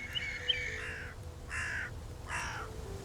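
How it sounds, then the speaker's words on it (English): Crows caw three times in a row, each a harsh, drawn-out call. The calls are faint and distant over a low background hum with no talking. "Dozens of birds had fled to the mountain."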